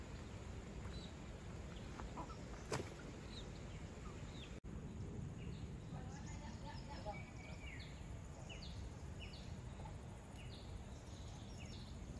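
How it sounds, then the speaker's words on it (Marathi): Chickens on a farm make scattered clucks and short calls over steady outdoor noise, with a few sharp clicks; the calls are faint and repeated. "तुम्ही बघू शकता एवढी आपली कोंबडी आहेत शेतावरती."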